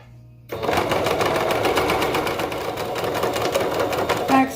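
A sewing machine stitches binding onto fabric in a steady, close, continuous mechanical whir that starts abruptly and runs to the end.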